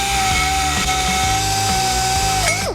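A Harbor Freight premium die grinder smoothing aluminum on a Harley 883-to-1275 engine build, a loud, continuous high-pitched whine with pulsing load changes as the bit bites, then spinning down at the end.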